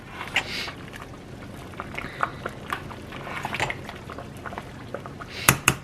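A pot of vegetable soup with leftover taco meat bubbles on high heat, giving a low, uneven simmer with scattered pops and gurgles and a couple of sharper clinks near the end.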